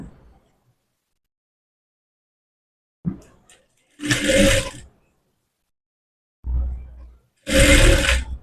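A sewing machine stitches piping onto a blouse in two short bursts of rapid mechanical whirring, each preceded by a brief clunk, close up with quiet gaps between and no talking.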